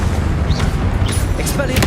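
The Confringo explosive spell fires in Hogwarts Legacy on PS5 with a loud, booming, artillery-like blast and rumbling low end, brief, with whooshing effects layered over it.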